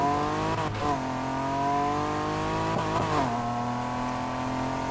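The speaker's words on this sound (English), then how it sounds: "the V6 just sounds like it's about to explode" A V6 car engine holds a strong, steady drone with two quick throttle blips and gear-change dips, close and loud, with no voices over it.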